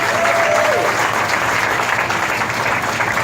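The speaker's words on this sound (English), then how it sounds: "Give him a round of applause." Applause from an audience at the grand opening of a county supervisor's new district office, a steady, dense wash of clapping that fills the whole moment at close range.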